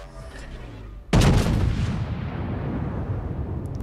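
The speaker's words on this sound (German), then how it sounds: "Granaten über die Insel drüber bekommen auf die Gneisenau, aber die ging scheinbar daneben." Warship main-gun shells fire in a World of Warships naval battle: a sudden loud heavy boom after a second of quieter game ambience, followed by a long rumbling decay.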